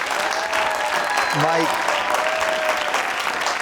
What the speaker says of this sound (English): they are cheering and they're clapping